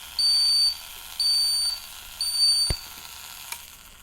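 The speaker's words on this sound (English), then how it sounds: "the system will automatically give the buzzer" The buzzer of a smart helmet system sounds three short, high electronic beeps in a row, each lasting about half a second, with a sharp click near the end.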